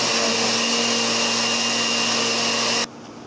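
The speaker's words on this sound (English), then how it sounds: "you put the ingredients in the blender, the 4 eggs and the flour and vanilla and everything else in the milk" A kitchen blender whirs steadily at close range, mixing eggs, flour, vanilla and milk for homemade flan, then cuts off abruptly near the end, leaving quiet room tone.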